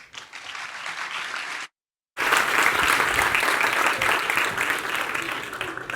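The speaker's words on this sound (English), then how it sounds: "Please give her a huge round of applause." A conference crowd greets a keynote speaker with loud, dense applause that runs steadily, stops abruptly for a moment, then resumes at full strength and carries on.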